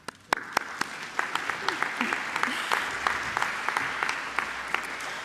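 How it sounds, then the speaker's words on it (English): Audience in a great hall clapping for a primary school choir at a National Flag Day event, a moderate ripple of scattered claps that swells after a sharp start and holds steady, with faint murmuring underneath. "We can give them another little clap."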